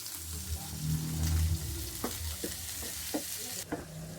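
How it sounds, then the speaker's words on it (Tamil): Onions sautéing in a pan with chana dal, ginger and green chillies for pistachio chutney, a steady close sizzle under the scrape and clack of a spoon stirring at irregular intervals. "வெங்காயம் சேர்த்து வதக்கியதும்"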